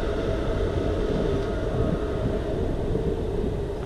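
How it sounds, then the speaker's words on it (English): Continuous rumbling roar of a train going by close to the Graham Farmer bridge in Perth, Western Australia, loud and unbroken throughout, with no voices over it. "Sorry about the noise of the train again."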